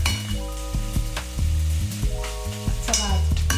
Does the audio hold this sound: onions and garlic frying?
yes